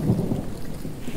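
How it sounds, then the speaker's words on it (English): A thunderstorm in The Infected rumbles low and steady with heavy rain hissing across surfaces, a brief, dense wash of thunder and downpour. "these freaking storms in these games. They just sound so damn good."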